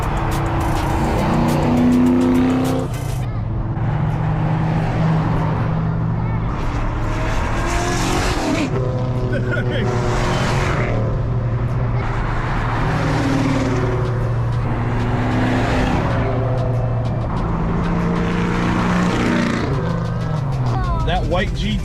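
A white 1990 or 1991 Foxbody Mustang GT with a 427 engine driving past at a cruise event, deep rumbling exhaust rising and falling in repeated revs, with people talking over it.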